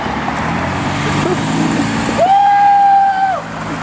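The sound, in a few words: car horn honking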